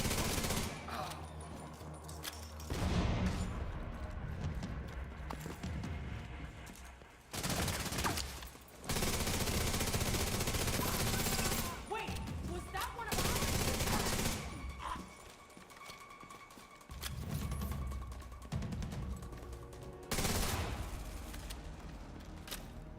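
Rapid bursts of automatic gunfire in a first-person shooter video game, loud and repeated in clusters with brief pauses between volleys.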